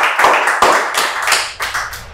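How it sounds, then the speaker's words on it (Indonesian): An audience clapping at a talk show with a presidential candidate, a few loud, sharp bursts of claps in quick succession, each swelling and fading fast, close and dominant with no talk. "Tepuk tangan sekali dong."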